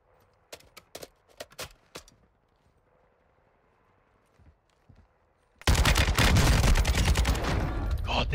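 An RPK light machine gun in Warzone 2 fires scattered single shots and short bursts at first, then breaks into a loud, sustained burst of rapid automatic fire.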